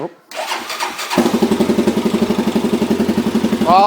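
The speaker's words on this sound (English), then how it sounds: "I know this starter button's kind of glitchy." A Honda TRX 400EX ATV engine is cranked with its starter button, catches after about a second and settles into a loud, close, lumpy idle with steady rapid pulses. Some clatter comes before it starts.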